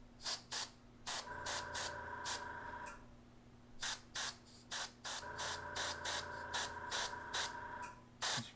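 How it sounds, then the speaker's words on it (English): An aerosol spray paint can hisses in short repeated bursts of about half a second onto a miniature tabletop doorway, close and clear, with a faint steady hum beneath. "I'm spraying just a little bit at a time."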